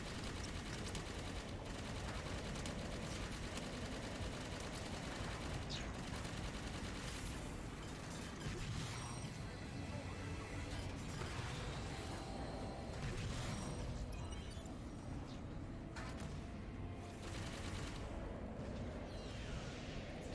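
Weapons fire from a piloted ship in Halo 5: Guardians, a dense, continuous stream of rapid shots and blasts with mechanical whirring, fairly quiet and steady throughout.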